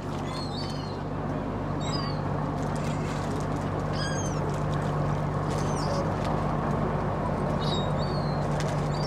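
Seagulls gather around a small boat at sea carrying a cat, their high calls coming repeatedly from near and far over a steady low engine drone that runs throughout.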